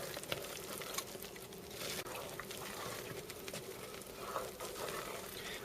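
A thick English toffee mixture of melted margarine bubbles and sizzles steadily in a pot, a dense crackling simmer with scattered pops, fairly quiet and without speech.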